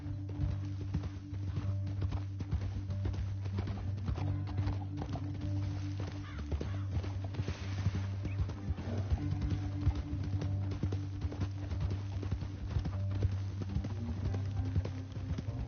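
Horse hooves clip-clop steadily at a walking pace in Red Dead Redemption 2, a continuous rhythmic clatter over a low ambient rumble with occasional snorts and whinnies.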